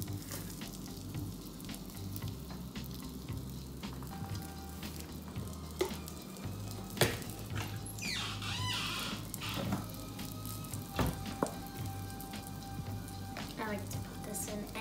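Garlic frying in a pan, a steady soft sizzle with occasional clicks and stirring knocks, close and moderately loud, with no talking over it.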